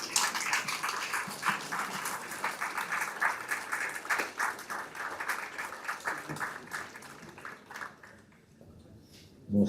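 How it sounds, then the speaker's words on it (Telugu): A large audience gives a standing ovation at a resort inauguration event in Coorg, with dense, sustained applause that continues for several seconds, then thins out and ends with a brief louder burst. "give a standing ovation in inviting hour super star on to the stage"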